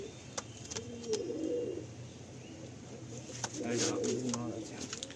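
Pet pigeons at a seller's loft, cooing in low soft bursts close by, with brief flutters and rustles between, under a quiet background.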